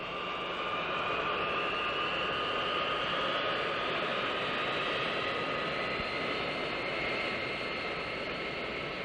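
A jet airliner, Flight 766, taxiing toward the end of the runway, a steady loud engine whine and broad roar holding constant throughout without talk.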